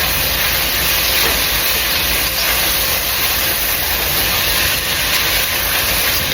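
Pasta sautés for sopas in a pan, giving a steady, dense sizzling hiss that holds evenly from start to finish with no talking.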